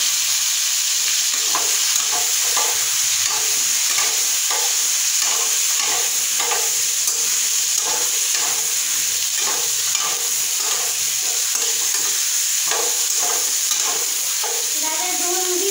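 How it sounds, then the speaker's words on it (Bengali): Cauliflower frying in a pan hisses with a steady, loud sizzle, while a spatula stirs it in repeated scraping strokes throughout. "ফুলকপি ভাজা দিচ্ছি, ভাজা নিচ্ছি"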